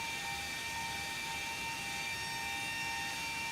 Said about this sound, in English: That's another plane around.